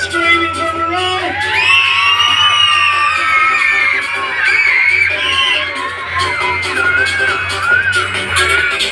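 A large crowd at a monster truck show in Mackay screams, whoops and cheers continuously, with many high children's voices yelling together close by and loud.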